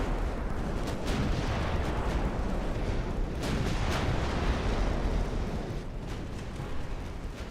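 Heavy naval guns booming in the warship battle game Ultimate Admiral Dreadnoughts, a continuous rumbling barrage of distant artillery with repeated dull bursts at a steady loud level.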